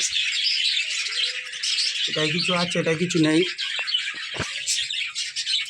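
Budgerigar chicks chirp and squawk in a clay colony nest pot, a close cluster of harsh calls over a steady background chatter of birds, with a person speaking briefly.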